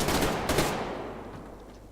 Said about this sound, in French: il vaut mieux tirer par rafale, en tout cas avec la KM, parce qu'elle n'est pas très stable